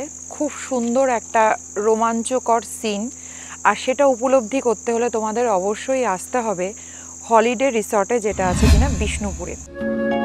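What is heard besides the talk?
crickets chirping in the evening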